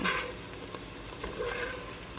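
Potatoes sizzling as they fry in a pot, with a steady close hiss and occasional scraping stir noises, alone without talk.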